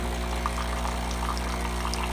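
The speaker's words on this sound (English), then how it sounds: "run the hot water through the hot water spigot to clean that out" Hot water pours in a steady, hissing stream from a Breville BES870XL espresso machine's hot water spigot over a constant low mechanical pump hum. It is close and brief, with no voices.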